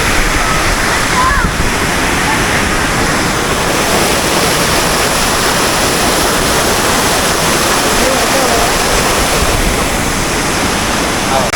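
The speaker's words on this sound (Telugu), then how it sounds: "సో ఇదే తుంప వలస వాటర్ ఫాల్స్." Dumpavalasa waterfall near Maredumilli roars with a steady, loud wash of rushing, crashing water that fills the scene from start to finish, broad and unbroken.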